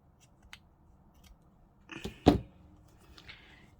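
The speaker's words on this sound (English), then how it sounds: "Okay, I'm going to cut that down slightly." Scissors snip through scraps of paper while trimming a bookplate for a notebook: one or two short, close cutting sounds in a quiet room, with no talking.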